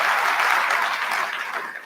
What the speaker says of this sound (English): I think that we need to give the Wildcats a round of applause